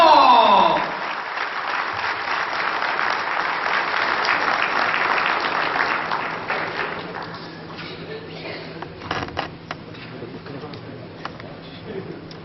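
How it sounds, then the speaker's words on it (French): A crowd at a pétanque masters event in Madagascar gives loud applause that swells, then tapers off over several seconds, leaving faint murmurs and a few scattered claps. "Grand applaudissement pour le président."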